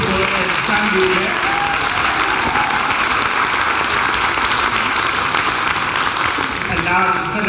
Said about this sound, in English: Applause, please, for Karabo, Luvo, and Sandile.